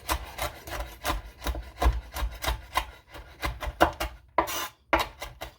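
Bacon strips for an omelet being chopped on a board, a rapid irregular run of close knife strokes and scrapes, each short and sharp, with brief pauses and no talking.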